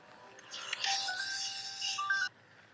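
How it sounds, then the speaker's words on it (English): Mobile phone ringtone going off outdoors during a walk beside a canal, a bright electronic melody ringing steadily for about two seconds before cutting off abruptly. "Just my lift's just ringing me just a second."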